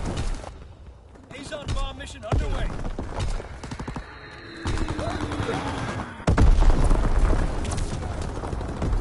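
Bursts of gunfire and heavy bomb blasts from an Azon bomb strike in the Call of Duty: WWII video game, loud and dense with a big booming impact near the end, voices talking over the battle.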